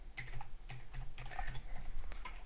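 Fingers tap out a username on a computer keyboard, a close, quick run of light clicking keystrokes with brief uneven pauses.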